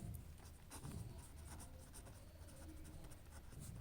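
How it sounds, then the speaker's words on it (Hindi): Soft, continuous scratching of a pen writing on paper during a Class 6 maths lesson, faint and close, with no talking over it. "तो अब लिख देंगे"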